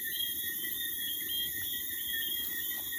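Crickets chirp outdoors at night near an outdoor cooking spot in Jamaica, with several steady high-pitched trills layered into a continuous, even chorus and no talking.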